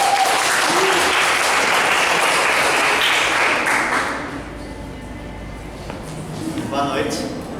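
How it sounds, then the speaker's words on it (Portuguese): Loud, full applause from an audience at a presentation night for a returning presenter, sustained for about four seconds and then thinning out as a speaker begins talking. "um aplauso para o Rafa"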